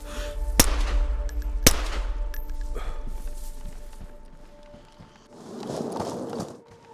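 Gunfire in the survival video game DayZ, with two sharp distant-sounding shots about a second apart, then fainter cracks and shuffling movement, with a muffled burst of noise later.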